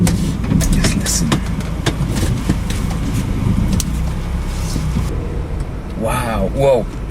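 Thunder from a close cloud-to-ground lightning strike during a Florida storm in July 2007 rolls as a long, heavy low rumble, with a voice briefly heard near the end.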